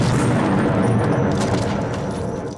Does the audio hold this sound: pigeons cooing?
no